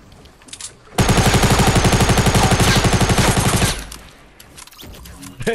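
Fortnite gunfire erupts as a dense, loud burst of rapid automatic shots lasting about three seconds, then drops back to quieter game sounds.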